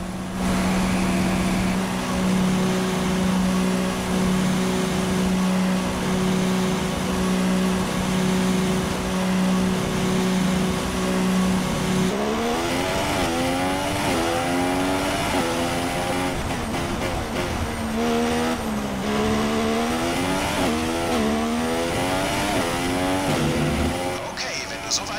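Formula 1 race car engine in the F1 2016 video game, racing at Austin in the USA: a steady droning engine note for the first half, then rising and falling revs through gear changes, loud and continuous under talk.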